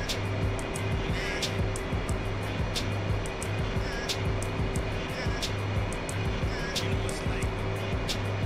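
A steady, loud engine roar fills an F-18 fighter jet cockpit on descent toward a carrier landing, a constant broadband drone with a low rhythmic pulsing throughout, and radio chatter intermittently breaks through.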